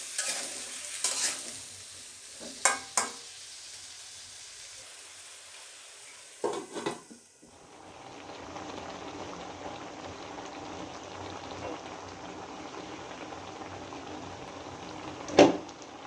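Turmeric and chili powder are stirred into a cooking pot, with a few close scrapes and knocks of the spoon at first, then a steady soft sizzling, simmering hiss that runs on, broken near the end by one sharp clank.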